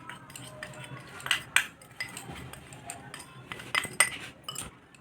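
A spoon stirs milk and milk powder in a bowl, giving scattered clinks and taps against the bowl in an uneven rhythm, close by, with no one talking.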